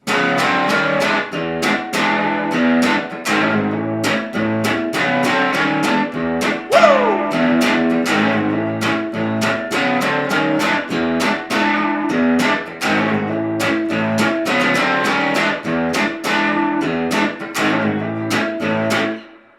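A punchy electric guitar riff from a song repeats in a steady funky groove with short choppy strums and a brief slide, loud and continuous without any talking.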